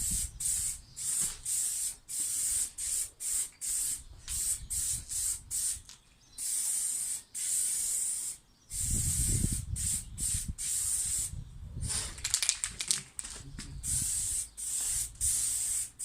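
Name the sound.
spray gun applying primer to Peugeot 206 bonnet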